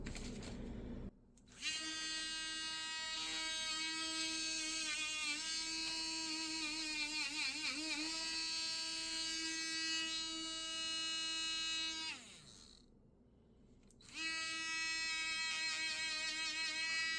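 A powered polishing tool works a metal-plated 3D print with a bright, buzzing whine rich in overtones. It runs steadily for about ten seconds, wavers in pitch, cuts out briefly, then starts again.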